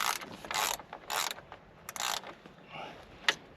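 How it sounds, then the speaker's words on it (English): Ratchet spanner clicking as it undoes nuts on a Drifta Stockton Wild Land rooftop tent, several short bursts of close, crisp ratcheting separated by brief pauses, no talking. "It's real quick with the ratchet spanner."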